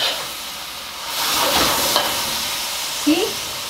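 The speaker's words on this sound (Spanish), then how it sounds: "pongo la cebolla, le doy una vuelta con la cebolla" Onion stir-fries in a hot pan for a broccoli and chicken dish. A close hiss of sizzling swells as it is tossed, with a brief scrape of the utensil near the end.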